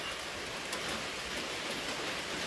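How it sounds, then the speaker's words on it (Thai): Steady rain falling, a dense even hiss of drops on surfaces at moderate loudness, continuous throughout with no voices. "ตอนนี้ฝนตก"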